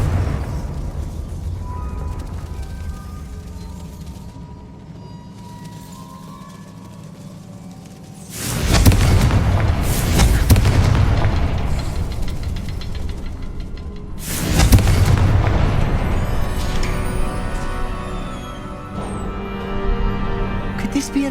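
Confringo fire-spell blasts in the game Hogwarts Legacy, two heavy booming explosions a few seconds apart that each roll out into a long rumbling decay, with quieter game ambience between.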